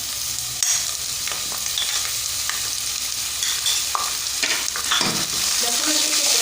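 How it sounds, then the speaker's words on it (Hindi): Garlic ginger paste fries in hot oil while being stirred, a continuous close sizzle with repeated scraping and clinking of the spoon against the pan and occasional sharp pops, with no voices. "इसके साथ ही हम ऐड कर देंगे लहसुन अदरक का पेस्ट"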